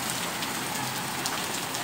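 Steady rain pours onto a flooded town-centre street in Patos, a dense, even hiss of drops striking water and pavement, continuous and close with no voices.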